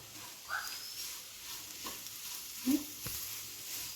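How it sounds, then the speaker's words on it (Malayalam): Grated coconut, onion and salted cooked clams are sautéed in a pan, giving a soft, steady sizzle with a couple of brief stirring scrapes, faint and without voices. "ഒന്ന് മിക്സ് ചെയ്തൊരു ഒരു മിനിറ്റ് നേരം ഒന്ന് വഴറ്റി കൊടുക്കാം"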